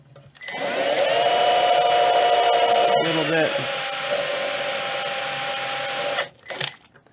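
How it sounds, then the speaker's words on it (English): A power drill with a very skinny bit whines steadily into a wooden ukulele for several seconds, pausing briefly mid-way, then stops; a voice speaks briefly. "So I'll start drilling right here."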